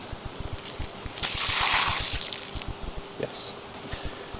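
Water pours from a wellington boot outdoors during trout fishing in the Scottish Highlands: a loud, close splash lasting about a second, followed by a smaller splash and a few drips.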